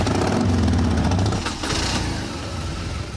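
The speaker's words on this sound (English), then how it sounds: "Gentlemen, start your engines." A pack of motorcycles starting up and revving together, a loud, rumbling engine roar that is strongest at first, then steadies into a continuous, slightly fainter drone.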